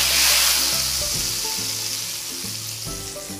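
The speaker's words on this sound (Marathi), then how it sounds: "मस्त खमंग असा तडका बसलेला आहे" Loud, bright sizzle of a tempering of dried red chillies poured into hot oil over methi gola bhaji, a steady crackling hiss that eases slightly as it settles.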